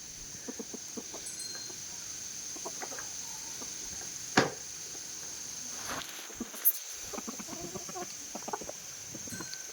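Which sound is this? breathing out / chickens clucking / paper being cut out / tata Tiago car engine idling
chickens clucking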